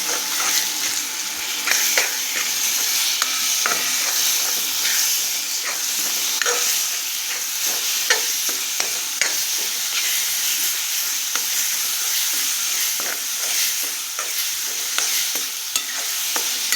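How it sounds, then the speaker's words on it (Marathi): Red chilli powder roasting and being stirred in a hot pan with garam masala, a continuous loud sizzle broken by repeated scraping strokes of the spoon at an uneven rhythm. "त्याच्यानंतर लाल तिखट दोन ते तीन चमचे पूर्ण असं भाजून घेऊया"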